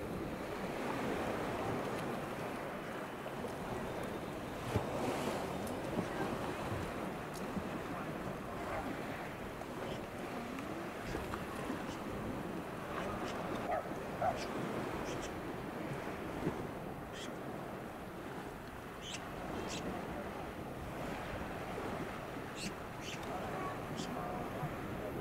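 Waves wash onto the beach beside the Dawlish seawall in a steady broad surge of surf under wind, with voices talking faintly over it.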